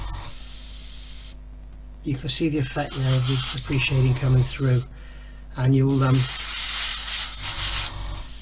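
Airbrush spraying paint onto parts of an Airfix 1/24 F6F-5 Hellcat model, a steady close hiss running through the clip with someone talking over the middle.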